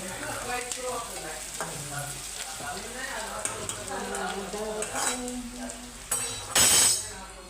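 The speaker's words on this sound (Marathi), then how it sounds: "थोडं लाल मिरची पावडर टाकते." Khichdi with potato, onion, peanuts, green chili and red chili powder fries in a pan, soft sizzling under stirring and clinks of a utensil against the pot, ending in a louder burst of sizzle.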